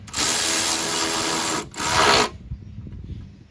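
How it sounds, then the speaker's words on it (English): A power tool tightens a radiator mounting bolt on a GM minivan with a loud, steady whirring run, a brief pause, then a second shorter burst, followed by light clanks at close range. "We're going to tighten this side down now."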